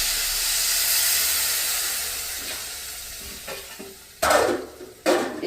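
Semolina and vegetables cook together in a pan for semolina pulao. A steady steamy hiss slowly fades, then two loud, close scraping stirs follow near the end.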